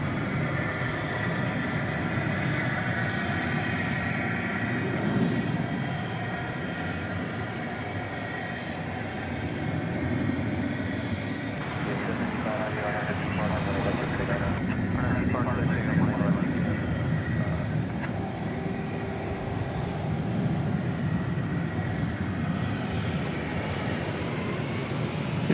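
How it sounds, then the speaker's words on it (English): An American Airlines Airbus A321 jet airliner, Flight 2850 bound for Los Angeles, takes off from DFW at night, a broad steady engine roar holding throughout with a rising tonal whine midway, voices talking underneath. "That was American Flight 2850 off to Los Angeles, an Airbus A321."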